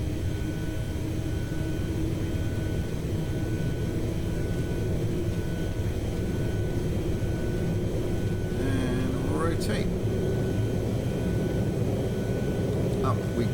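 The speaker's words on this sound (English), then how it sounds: "really nice takeoff effects there on the runway" Boeing 737 rolling down the runway on takeoff in the X-Plane 11 flight simulator, a steady loud engine roar with broadband rush throughout, a brief rising whine near the end.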